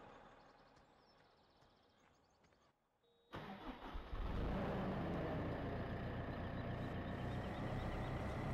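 A telehandler engine in Farming Simulator 17 cranks and catches after quiet ambient sounds, then settles into a steady, loud mid-pitched idle rumble, close and alone.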